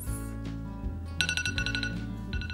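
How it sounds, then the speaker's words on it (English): A phone alarm tone plays as bright, chiming glassy notes over a sustained low background, the bell-like pattern entering midway and repeating near the end, fairly faint and with no talking. "That is my alarm tone."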